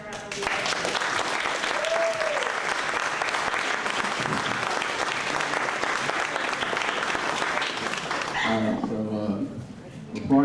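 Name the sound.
applause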